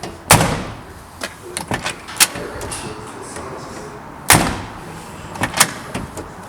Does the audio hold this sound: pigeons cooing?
no